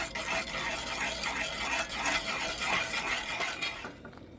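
Barbecue sauce mixture is stirred in a pot with a steady, close scraping and swishing that carries on for about four seconds before trailing off, with no voices.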